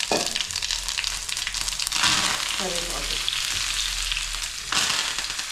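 Mustard seeds, green chillies and cumin sizzle in hot oil for a lemon and bitter gourd pickle, a bright crackling fry with sharp pops and bursts that swells briefly twice.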